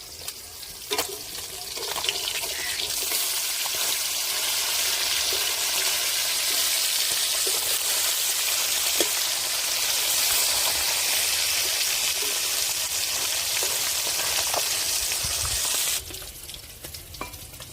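Fish frying in hot oil in a pan: a loud, steady, close sizzle lasting most of the stretch, with a few clinks and scrapes, then suddenly dying down near the end.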